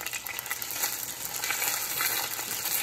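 Kung Pao chicken pieces hiss and crackle in a hot pan as they are mixed, a steady broadband sizzle that swells slightly midway, close and continuous with no voices.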